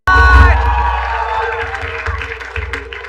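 An audience at a stage show cheers and applauds loudly, the noise bursting in at once and then tapering gradually, with shouts and whoops mixed into the clapping.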